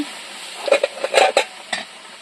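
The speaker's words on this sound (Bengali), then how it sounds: "পেঁয়াজটা লাল লাল হয়ে গেছে এবার এটা আমি ঢেলে দেবো" Browned onions are tipped into a pan and stirred, producing a cluster of scraping, sizzling bursts in quick succession that fade to a quieter hiss.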